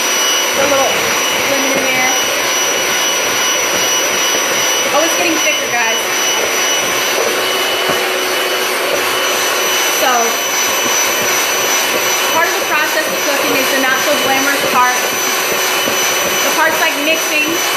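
An electric mixer whips a thickening mixture with lemon in a home kitchen, giving a loud, steady whirring drone that holds throughout, with faint voices beneath it.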